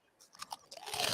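Monster Munch crisps are crunched and chewed close to the microphone in an ASMR style, giving a rapid run of crisp, loud bites that build into a dense, noisy crunch toward the end.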